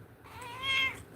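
A cat gives a single soft, rising meow, faint and fairly distant, over a quiet background hum.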